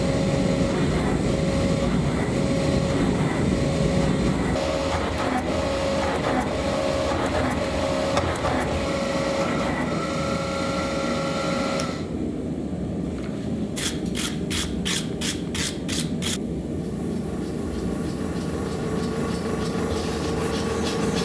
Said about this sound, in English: I bring it up to welding temperature and I forge weld it using my press